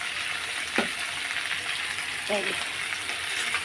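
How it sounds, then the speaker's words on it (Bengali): Onion frying in a pan with spices gives a steady broadband sizzle throughout, broken by a couple of brief clinks from stirring, with faint voice-like traces but no clear talk. "একটু ভাজা ভাজা করে নেব লাল লাল করে, তারপরে মশলাগুলো দেবো"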